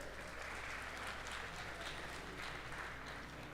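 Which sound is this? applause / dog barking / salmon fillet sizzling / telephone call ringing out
applause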